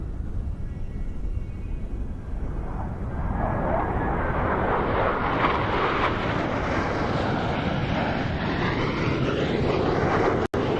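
Blue Angels jets sweep toward the flight line at 400 mph during an airshow, a loud roaring engine noise that builds and swells as they draw closer, then cuts off abruptly.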